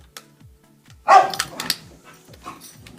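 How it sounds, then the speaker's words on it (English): Playing dogs let out a short burst of close, sharp barks and yips around the middle, with quieter whimpering sounds and a faint repetitive ticking in the background. "Dogs are playing."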